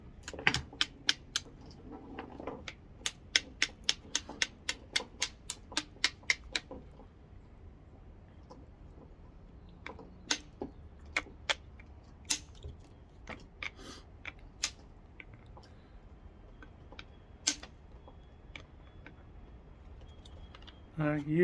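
Flint knapping on Citronelle gravel stone, a rapid run of sharp clicking strikes near at first, then sparser irregular taps as the stone is trimmed, with faint background noise.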